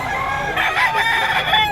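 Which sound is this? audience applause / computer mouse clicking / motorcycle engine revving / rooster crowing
rooster crowing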